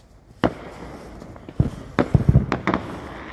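Independence Day fireworks going off outdoors, a scattered series of sharp bangs and pops, some single and some in quick clusters, moderately distant against quiet night background.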